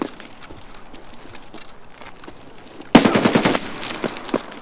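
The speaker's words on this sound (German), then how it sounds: "Von hinten schießt aber einer vom Busbahnhof, wo wir hergekommen sind" In Escape From Tarkov, gunfire comes from behind near a bus station: faint, scattered distant pops give way to a sudden loud burst of rapid shots, followed by a few more spaced cracks.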